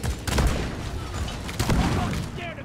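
Heavy weapon fire in the co-op mining shooter Deep Rock Galactic: dense, loud, sustained bursts of shots and booms rolling together for nearly three seconds, close and continuous.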